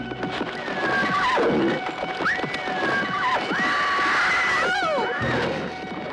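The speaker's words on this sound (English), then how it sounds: "I've never known Loie to be thrown from a horse before" A horse in a 1970 TV horror thriller whinnies repeatedly and loudly, several drawn-out neighs in close succession over a busy, noisy background.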